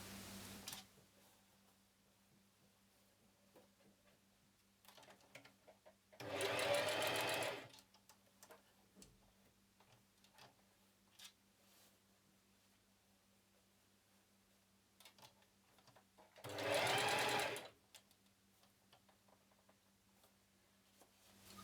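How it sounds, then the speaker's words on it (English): A sewing machine stitching elastic onto a dress, two separate bursts of rapid mechanical whirring about ten seconds apart, close and clear, with near silence between them. "And now you want to sew all of the other elastics in as well."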